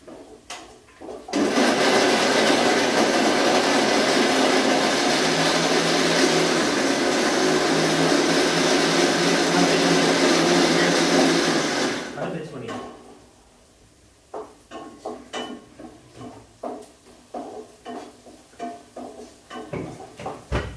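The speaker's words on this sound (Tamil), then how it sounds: "மிக்ஸியில் அடிச்சுலாம்." A mixer grinder whirs loudly and steadily for about ten seconds, then stops, followed by clinking and handling noises.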